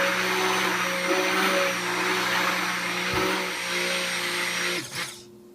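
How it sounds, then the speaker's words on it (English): A countertop blender whirs steadily through seedless watermelon chunks, a loud continuous motor drone with a faint bump near the end before it cuts off abruptly. "So now we've blended all of our watermelon chunks."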